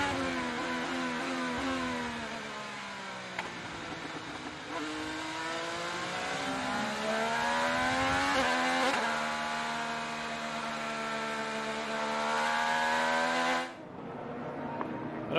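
An IndyCar race car engine heard from a low onboard camera at the front of the car, a loud continuous high-pitched whine whose pitch climbs and falls through repeated upshifts, then cuts sharply near the end.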